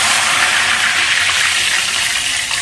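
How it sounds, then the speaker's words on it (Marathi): Ghevar batter poured in small amounts into hot fat, giving a steady, loud hiss of dense frying bubbles that fills the whole clip with no pauses and no voices. "टाकल्यानंतर असे बुडबुडे येतात."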